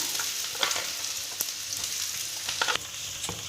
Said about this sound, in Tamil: ஸ்டவ்வில் பாத்திரத்தை வச்சு அதில் எண்ணெய் ஊற்றி ஒரு பெரிய வெங்காயம் கட் பண்ணதை போட்டிருக்கோம்